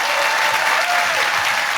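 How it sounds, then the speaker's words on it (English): A studio audience gives loud, sustained applause for guest Konnie Huq, a dense unbroken roar of many hands close and steady throughout. "please give a massive round of applause, Konnie Huq!"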